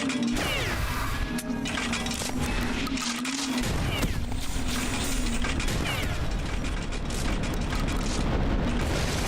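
A booming explosion in the sci-fi shooter game Beyond Citadel, with crashing, rumbling debris and dense, loud game noise throughout, plus a brief burst of talk near the start.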